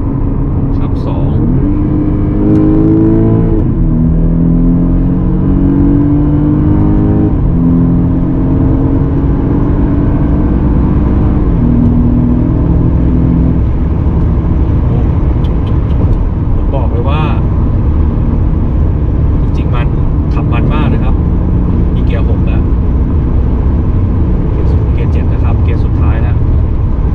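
A 2015 BMW 528i engine roars at full throttle, revving up repeatedly as gears shift down, loud and close with a heavy rumble throughout.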